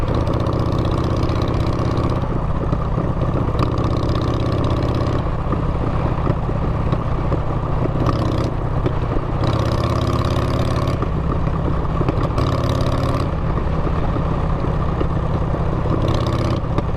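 Motorcycle engine running during a ride, a continuous loud droning roar with steady harmonics and periodic shifts in pitch and intensity as the bike moves, with no talking.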